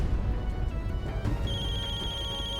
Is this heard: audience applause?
no